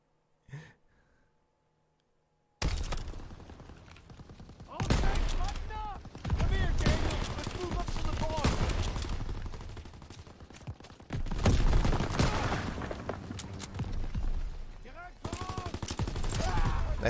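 Dense bursts of gunfire rattle through a Call of Duty: WWII battle, loud and near, with repeated volleys and machine-gun-like fire and voices shouting over the shooting after a brief quiet opening.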